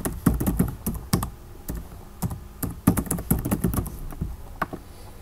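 Keys tapped on a computer keyboard while entering a root password during a CentOS 7 install, with bursts of quick clacking strokes and short pauses, close and clear.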